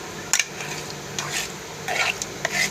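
Paneer being stirred with yogurt, ginger-garlic paste, chili powder and oil in a bowl, giving close wet squishing and soft scraping with a few sharp clicks of the utensil.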